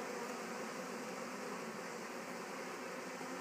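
Honey bees buzz around a Warre hive in a steady, dense drone, faint and continuous with no voices.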